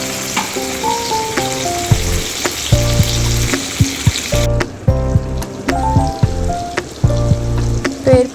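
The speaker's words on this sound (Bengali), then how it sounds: "এরপরে এটাকে একটু ভালো করে কষাতে হবে যতক্ষণ না পর্যন্ত মশলাটা থেকে তেল ছেড়ে আসছে।" Spice paste for a climbing perch (koi) fish curry fries in hot oil, a loud continuous sizzle with occasional stirring knocks, heard beneath tonal background music.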